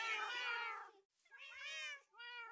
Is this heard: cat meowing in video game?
yes